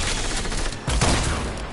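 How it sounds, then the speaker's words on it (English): A rocket launcher fires in Fortnite, a loud, dense burst of blasts and explosions over a short stretch of chaotic gunfire, close and harsh with no voice over it. "Shoot the RPG at them."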